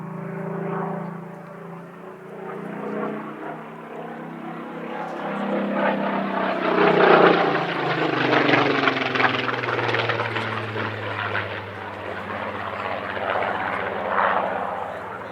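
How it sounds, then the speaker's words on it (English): A Spitfire PR-19, a former photo reconnaissance and meteorological research aircraft, flies at an airshow. Its propeller engine drones steadily and swells louder toward the middle as it passes, then holds a sustained roar alone. "This is their Spitfire PR-19"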